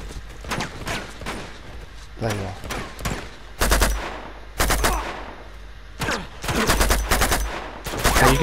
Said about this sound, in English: Hey, who's shooting me now?